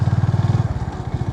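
Motorcycle engine running on a Gir jungle road, a loud, close, steady rhythmic thumping putter throughout a brief stretch with no talk.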